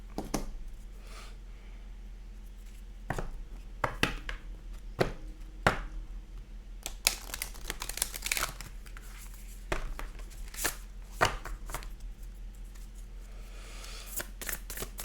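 Tarot cards being shuffled and riffled with sharp snaps and papery rustles, irregular and close, with no talking.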